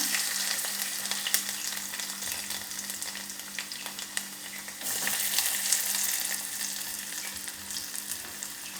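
Spices and vegetables dropped into hot oil for a spinach curry, crackling and sizzling steadily up close with brief stirring knocks and a low hum beneath, no voices.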